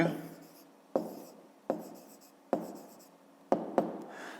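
Pen writing out a fifth-grade maths exercise by hand on paper, with scratchy strokes and repeated sharp taps as each number or word begins, close and alone.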